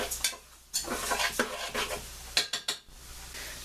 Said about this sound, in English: Mix up those grits, make sure everything's all distributed.